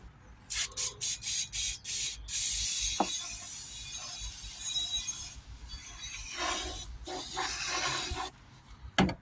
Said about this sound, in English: Just going to clean up any sort of dirt that's around this tube